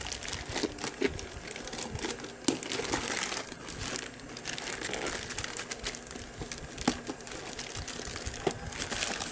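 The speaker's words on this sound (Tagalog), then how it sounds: "So buksan ko lang. So ito yung parcel. Kaya natin buksan." A parcel box being opened by hand, with steady crinkling and crushing of packaging and sharp tearing snaps throughout, close and fairly loud with no talking.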